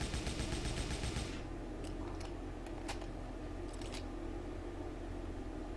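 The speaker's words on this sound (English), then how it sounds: "our enemy has spotted the cube player, and now is currently shooting at it." Video game gunfire from an AI enemy in a Unity shooter, a fast rattling burst of shots followed by a few scattered single cracks over a steady background hum.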